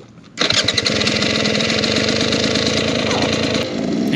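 Enduro dirt bike engine running steadily on a wooded trail, loud and close, a sharp start at about half a second then a continuous buzzing drone with no talk.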